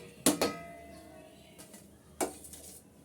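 A metal pan holding vegetable noodles and egg is lifted off a stove, with two sharp metallic clanks about two seconds apart, close and clear, and soft faint rustling between them, with no voices.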